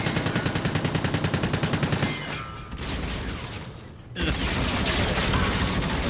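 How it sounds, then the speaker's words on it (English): Rapid automatic gunfire in the Call of Duty: Infinite Warfare video game, a dense rhythmic burst of shots up close, a brief lull, then heavy sustained firing resumes loud and unbroken. "There's someone shooting me!"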